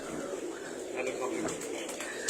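A dub breed pigeon coos softly, its low, throaty calls close and fairly quiet against a faint background, with no clear talk over it.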